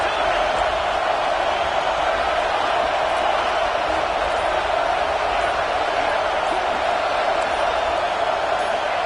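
Stadium crowd noise in the NCAA 26 college football video game rises into a dense, continuous roar as fans try to push the defense to a red zone stop, loud and unbroken throughout.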